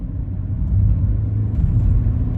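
A BMW 116i engine drones at full throttle in a low, heavy rumble that swells and holds loud from inside the car, with no speech.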